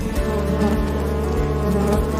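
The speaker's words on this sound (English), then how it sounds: "Inside, tens of thousands of bees are constantly moving, communicating, building." Honey bees at a bee farm hive drone loudly and continuously, a thick close-up buzzing hum from tens of thousands of insects with no voices.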